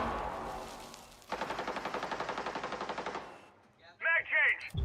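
Rapid automatic gunfire in a video game, a steady burst of about twenty sharp shots lasting two seconds after some rumbling ambience, followed by game sounds and brief voices.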